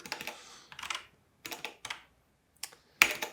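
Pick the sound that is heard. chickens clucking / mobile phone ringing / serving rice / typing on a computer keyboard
typing on a computer keyboard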